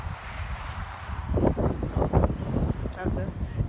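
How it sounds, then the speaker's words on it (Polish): Wind blows near a seaside lighthouse, buffeting the microphone in uneven low rumbling gusts that grow stronger partway through. "Pogoda się udała, trochę wieje ale nie przeszkadza nam to w ogóle"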